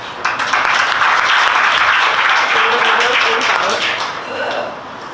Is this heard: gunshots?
no